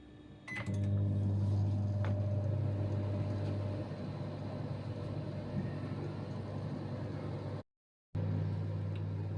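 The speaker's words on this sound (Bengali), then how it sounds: "মাইক্রোওয়েভ পাওয়ারে, ফুল পাওয়ারে 10 মিনিটের জন্য আমি এটা" A microwave oven running on full power while cooking chicken tandoori hums steadily with a low, constant drone, briefly cutting out near the end before resuming.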